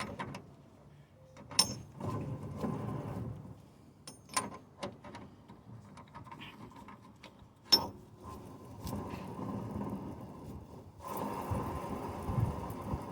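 A wrench turns the front hub nut on an MGB, with sparse, faint metallic clicks and clunks at irregular intervals, a couple of sharper knocks and a brief rougher ratcheting rasp near the end, without speech.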